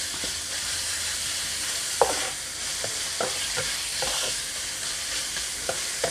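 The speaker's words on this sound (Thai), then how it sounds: "ผัดหมูให้สุก" Pork stir-frying in a hot pan for a pork and egg dish: a loud, steady hiss of sizzling oil runs throughout, broken by occasional sharp taps of a spatula.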